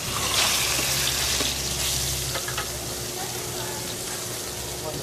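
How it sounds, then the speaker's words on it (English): Fish searing in olive oil in a pan in a Mexican kitchen: a steady, fairly close sizzle with a few stirring or scraping touches, heard alone without talk. "So we're going to sear the fish on both sides."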